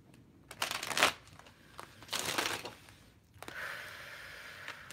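Tarot cards being shuffled by hand give two crisp riffling bursts a second apart, followed by a softer, longer rustle, all close and quiet with no talking.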